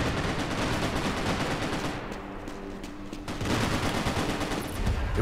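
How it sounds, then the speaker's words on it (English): Rapid, dense bursts of automatic gunfire in Max Payne 3 multiplayer rattle loudly and continuously, briefly easing off before another heavy volley. "It was a barrage of gunfire"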